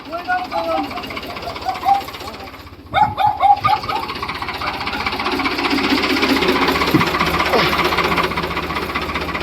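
A Ford diesel tractor engine runs nearby with a low, chugging rhythm that revs and swells, while people talk over it.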